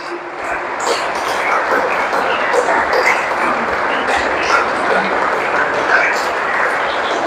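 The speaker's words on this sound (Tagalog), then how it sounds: "Minsan pang palakpak sa Diyos," A church congregation applauding during a Sunday service, steady dense clapping that fills the whole stretch at moderate loudness, with a voice speaking over it.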